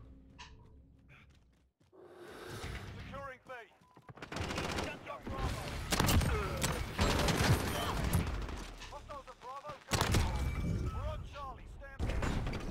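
Bursts of gunfire in Call of Duty Modern Warfare, loud repeated shots and rapid automatic volleys arriving in clusters after a quiet start, with someone talking between them.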